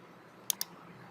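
A computer mouse clicking twice in quick succession, crisp and close against a quiet room.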